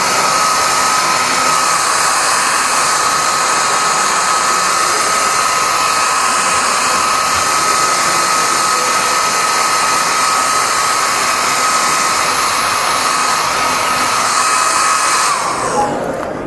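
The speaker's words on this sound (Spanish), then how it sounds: "utilizo el secador." A hair dryer blows steadily to dry paint on a model T-34 military tank, a loud constant whirring drone close up that holds for the whole stretch and then clicks off at the end.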